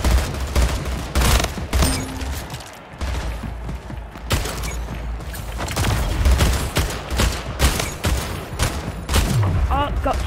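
Semi rifle gunfire in the arena shooter Splitgate, with dense, rapid bursts of shots and impacts running continuously and loudly, mixed with other game effects and a voice talking over the action.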